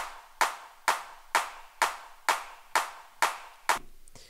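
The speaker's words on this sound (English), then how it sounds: "Some claps to really get the groove going." Hand clap samples laid into a music beat, eight sharp, evenly spaced claps with short decaying tails, loud and dry with nothing else around them.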